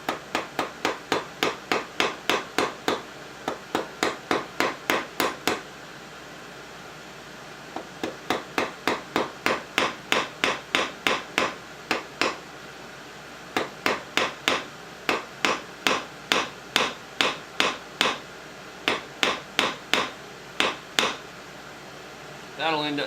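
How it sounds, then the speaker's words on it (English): A ball peen hammer peens down a metal ejector for an H&R BayState 12-gauge single-shot, steady rapid strikes in long rhythmic runs with short breaks, close and ringing, over a faint background hum. "I'm going to use my ball peen hammer and peen it down"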